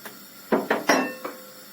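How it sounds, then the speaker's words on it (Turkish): A few quick clinks and scrapes of a utensil against a pot of potatoes and carrots, four short knocks in under two seconds, fairly close. "tekrardan karıştırıyorum"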